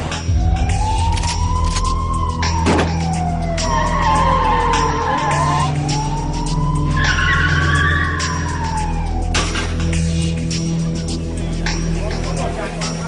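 A car skids and screeches during a police chase through Thai side streets after smashing through roadblocks, its long squealing tyre sweeps rising and falling near and loud under a steady engine roar, with speech over the top.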